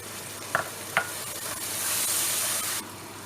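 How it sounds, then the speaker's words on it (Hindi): Green peas and spices sizzle in a pan for a mattar pilau, with two sharp clinks of a utensil stirring, then a swelling, steady frying hiss that cuts off. "अब थोड़ी देर इधर जो पीस वगैरह डाले हैं मसाले, इनको थोड़ी देर भूनेंगे।"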